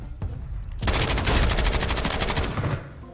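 Rapid automatic gunfire from a Call of Duty match bursts in loud and close after a brief lead-in, a dense stream of shots lasting about two seconds before cutting off.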